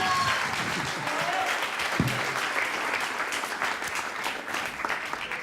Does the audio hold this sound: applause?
yes